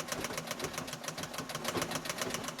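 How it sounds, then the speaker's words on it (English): A sewing machine runs a zigzag stitch along stretch fabric for a women's support top, with a fast, even mechanical chatter that stays close and steady throughout. "So just make sure you stitch it one end to the other."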